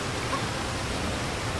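A waterfall in Super Mario Odyssey gives a steady, dense rushing hiss that fills the short moment evenly without change, with no voices over it.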